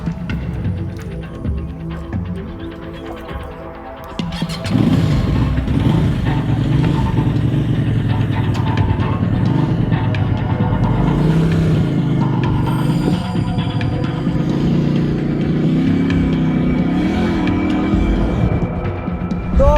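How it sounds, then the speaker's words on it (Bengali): A motorcycle of an unfamiliar type is ridden on a road in China, its engine a steady loud throbbing drone that swells after a quieter start and holds for the whole stretch. "চলেন এটা একটু চালাই দেখি এই ধরনের বাইক আমি ফার্স্ট টাইম ট্রাই করছি"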